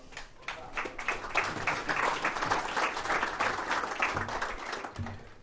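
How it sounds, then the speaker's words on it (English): A conference audience at a cybersecurity event breaks into sustained, dense applause welcoming a presenter to the stage, steady and fairly loud throughout without speech. "everyone give a big round of applause"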